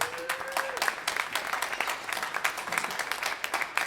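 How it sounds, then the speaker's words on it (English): An audience at a drum show gives a round of applause for the builder of the drums, steady crisp clapping from many hands at moderate volume, with a faint voice at the start. "Give him a round of applause."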